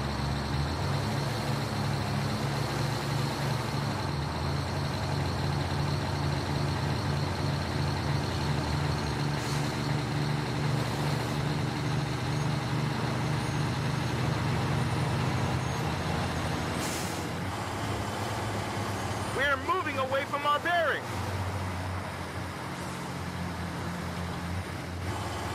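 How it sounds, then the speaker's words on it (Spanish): Dakar Rally trucks run nearby, their deep engines droning steadily and loudly for a long stretch, with a brief clatter and whine of another vehicle passing close near the end. "Estoy escuchando un camión a mi lado."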